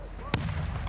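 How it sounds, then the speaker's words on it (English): A single sharp, loud gunshot crack from an enemy sniper in a video game, fading quickly into steady low game ambience with faint voice-like sounds. "I got sniped that fast."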